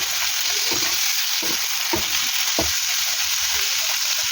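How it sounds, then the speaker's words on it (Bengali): Shrimp frying with spices in a pan, a loud continuous sizzle close to the listener, with a few soft scraping stirs at irregular intervals and no talking. "এখন চিংড়ি মাছগুলো ভালো করে কষিয়ে নেবো"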